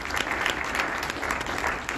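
Audience applause at a city State of the City address in Atlantic City, a dense, steady crowd clapping heard briefly and continuously throughout.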